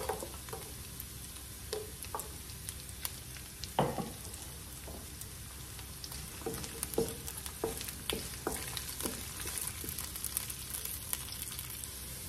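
Garlic frying in a pan for a goat dish, a close continuous sizzle broken by sharp spatula clicks and scrapes against the pan, with no one talking.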